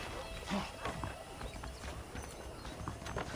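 Horses in the Red Dead Redemption western game, faint hoof clip-clops and a soft snort in an outdoor scene, steady background ambience with no talk.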